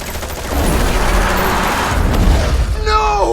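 Gunfire and explosions in Solo Leveling: ARISE, a loud fusillade with booming blasts rolling together into a sustained roar, closing with a brief sharp crackle.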